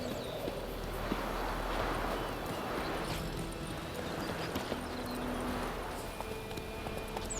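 Horse hooves clip-clopping steadily at a run in The Witcher 3, a continuous rhythmic patter over game ambience and music, with no talking.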